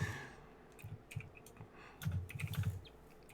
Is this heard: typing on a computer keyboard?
yes